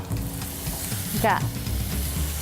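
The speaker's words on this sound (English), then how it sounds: "throw my peppers in there" Peppers sizzling in hot vegetable oil in a pan with broccoli, a continuous close frying crackle with a brief louder burst as they hit the oil.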